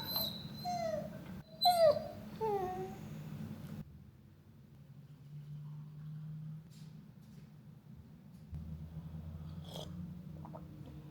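A dog lets out a few short whiny barks and yelps close by, then things go quiet apart from a low background hum.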